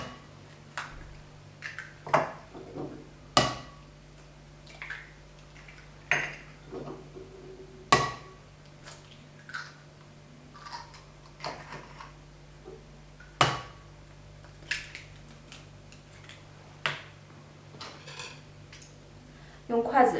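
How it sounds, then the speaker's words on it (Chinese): Chopsticks clink and scrape against a bowl while stirring all-purpose flour, baking powder and four eggs for sachima dough, a series of sharp, irregular taps spread across a quiet kitchen. "用筷子充分的搅拌均匀"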